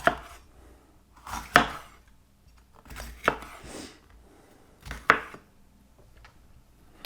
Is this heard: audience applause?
no